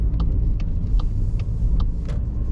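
A manual car moves off at a junction on a narrow road, its engine a steady low rumble close by, with faint regular ticking, likely from the indicator, over it.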